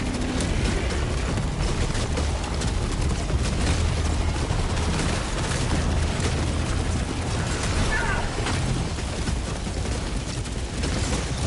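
Orbital strike explosions in Helldivers 2 make a continuous loud roar of booms and rumbling blasts, with crackling bursts layered over a heavy low rumble and a voice faintly underneath.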